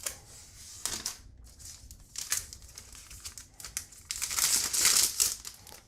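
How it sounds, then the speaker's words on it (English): Protective plastic film peeled off a new iPad mini, close crinkling and crackling in irregular bursts that swell louder and brighter toward the end, with no talking. "let's go ahead and take this plastic off."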